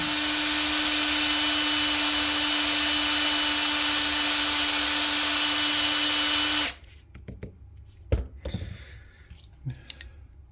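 A Frankfort Arsenal Universal Case Trimmer cuts brass cartridge cases with a loud, steady whirring motor hum for several seconds, then stops, leaving a few quiet clicks and taps of handling close by.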